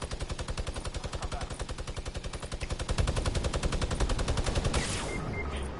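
Rapid automatic gunfire from a PS4 shooter game rattles in dense, continuous bursts throughout, growing heavier midway with deeper booming shots layered in, then thinning out near the end.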